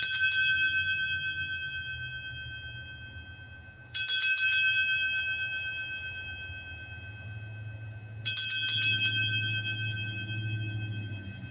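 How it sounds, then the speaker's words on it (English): A bright metal bell rung three times in a spiritual cleansing ritual, each clear ringing strike decaying slowly over about four seconds, with a low hum underneath. "Just a really beautiful bell."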